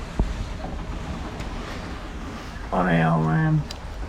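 Steady wind rush and wave wash surround a boat sailing offshore under full sails in a 12-knot breeze, a continuous roar near the microphone, with a short tonal squeal or voice-like sound rising over it briefly.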